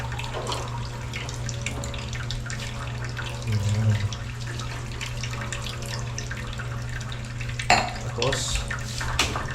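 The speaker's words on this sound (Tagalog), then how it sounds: "lagyan natin ng konting tubig" A little water runs into a container during outdoor cleaning, a steady splashing flow under a low hum, with occasional clanks and people talking nearby.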